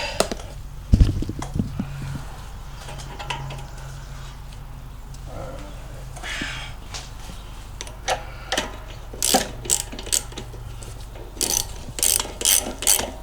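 Metallic ratchet-wrench clicking in quick bursts while bolts are tightened during a Predator V-twin engine swap onto a John Deere 737 mower, with a low background hum and faint workshop clatter.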